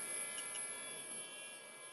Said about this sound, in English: The noise you can hear is the noise of my power supply.